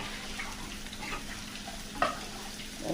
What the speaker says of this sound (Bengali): রসুন পেঁয়াজ কুচি আর কাঁচা ঝাল চিরা এগুলো ভালো করে ভেজে নেব।